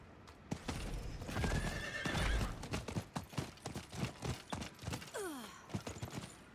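Horse in the Diablo IV video game galloping with rapid, rhythmic hoof clip-clops and a loud, close neigh near the end, with breathy snorts mixed in and no talking.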